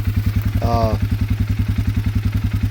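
A 2025 Polaris Sportsman 450 HO ATV engine idles with a steady, rapid ticking valve chatter, its rhythmic pulses continuing throughout, with a brief tonal whine partway through.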